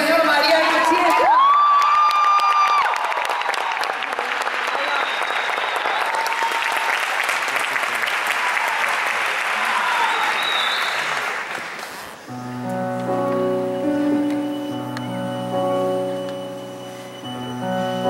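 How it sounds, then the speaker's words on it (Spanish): Audience at a live comedy show bursts into loud applause with cheers and whoops, sustained for several seconds before fading as music takes over. "Aplauso para el señor María Cachieta"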